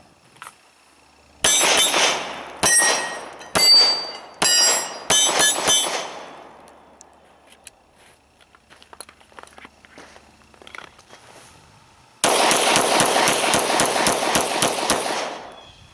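A Glock 35 pistol in .40 S&W fires at steel targets outdoors: a quick string of loud shots with ringing steel hits, a quiet pause with faint clinks, then a rapid dense volley of shots and impacts.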